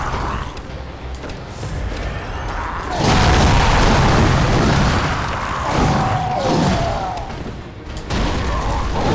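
A heavy boss jump attack lands in Bloodborne with a loud, booming impact that swells into a sustained crashing rumble, followed later by a sharper hit.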